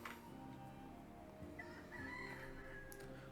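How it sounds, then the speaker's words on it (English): A rooster crows in the pixel-art video game dotAge, a faint drawn-out cock-a-doodle-doo over quiet background game music. "Ooh, chicken."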